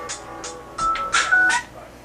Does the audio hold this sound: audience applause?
no